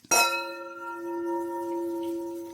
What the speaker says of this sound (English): those 2 red wine glasses are like the bells of St. Peter's